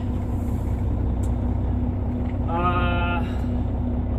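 Truck air brakes are set with a short, sharp pneumatic hiss over a loud, steady idling diesel engine rumble, heard close up with no talking.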